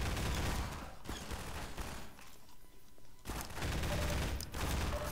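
Rapid bursts of gunfire in the video game Half-Life 2 ring out in dense volleys, loud and continuous with brief lulls between fusillades.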